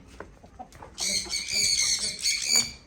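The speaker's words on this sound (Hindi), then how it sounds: "फिर देसी मुर्गियाँ जो है इनको बंद करेंगे" Desi hens cluck close by in a continuous chattering chorus that swells after a quieter start, with a few wing flutters.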